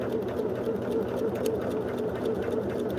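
A sewing machine stitches crazy patch blocks together into a single piece of fabric, giving a close, steady mechanical whir with a fast even rhythm that never breaks.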